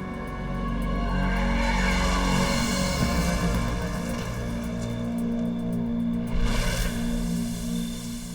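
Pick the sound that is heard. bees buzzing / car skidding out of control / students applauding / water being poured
car skidding out of control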